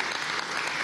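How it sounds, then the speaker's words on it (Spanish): Applause from an audience at a national culture award ceremony, a dense, steady patter of many hands clapping close by, filling the whole short moment without voices. "Yo pido un aplauso para este centro."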